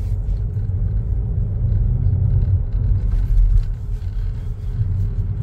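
A car accelerating on the road during a driving lesson, heard from inside as a steady, loud low engine rumble that swells slightly midway, with no voices.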